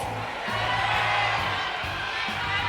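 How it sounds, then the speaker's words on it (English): Crowd noise at an esports event, a live audience at a Mobile Legends MSC knockout match, a broad steady wash of cheering and whoops that holds loud and even throughout the hall. "We're getting a lot of cheers from the crowd"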